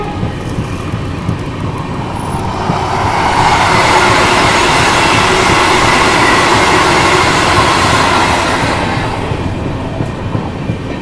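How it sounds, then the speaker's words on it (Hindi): An 8-coach Vande Bharat Express bound for Coimbatore passes close and loud, a steady roar of wheels and rushing air that swells for several seconds and then eases, with no talking. "ये कोयम्बतूर वाली वंदे भारत थी, मात्र 8 कोच वाली।"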